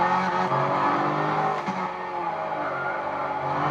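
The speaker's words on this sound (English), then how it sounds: "It's a nice sound turbo." Turbocharged GT3 race car engine in the Gran Turismo 6 racing game, a steady loud drone with shifting pitch and a brief dip mid-way, heard alone without talk.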